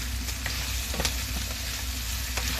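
Shrimp sizzling in a pan with pechay and tausi, a steady close crackle of frying with a few sharper pops, no voices.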